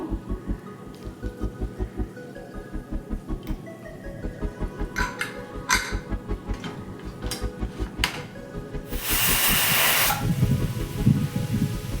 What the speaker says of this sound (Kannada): ಕುಕ್ಕರ್ ಏರ್ ಪಾಸ್ ಆಗಿದೆ